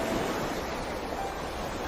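Ocean waves as steady, broadband surf noise, a constant wash with some wind, alone and without voices.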